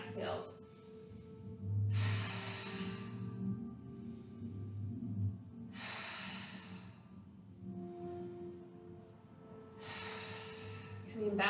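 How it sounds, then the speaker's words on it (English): Three strong breaths pushed out during a seated yoga twist, each a loud breathy rush spaced a few seconds apart, with quieter room sound in between. "3 audible exhales."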